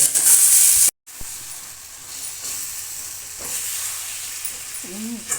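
Raw mango pieces fry in oil with turmeric and salt, a moderate steady sizzle after a sharp cut at the start, with a brief voice-like sound near the end.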